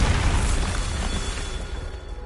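Bombarda explosion spell in Hogwarts Legacy, a loud deep boom opening sharply then rumbling and fading away over a couple of seconds.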